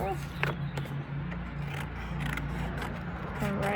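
Scissors snipping paper for a worry monster craft, a few soft crisp cuts under a steady background hum, with someone talking quietly in between.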